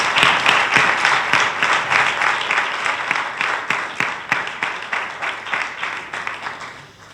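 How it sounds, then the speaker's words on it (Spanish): Audience at a film festival screening session applauds a guest, dense rhythmic clapping from a room full of people, loud and close, holding steady before gradually thinning toward the end. "un aplauso para él"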